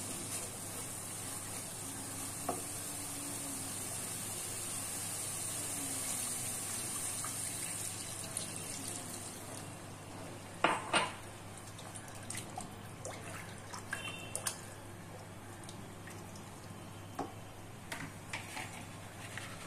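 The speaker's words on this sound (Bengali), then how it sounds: "একটু নেড়ে নিয়ে এবার জল দিয়ে দেব।" Yam curry in a pan being stirred while water is poured in, a steady broad wash of liquid with a few sharper scraping clicks later on, close and moderately loud.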